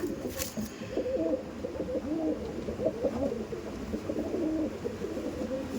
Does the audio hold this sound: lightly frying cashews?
no